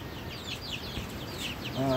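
Young broiler chicks on a farm make faint, repeated high-pitched cheeps and soft clucks, and a low hum of other sound rises near the end.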